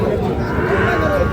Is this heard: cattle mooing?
yes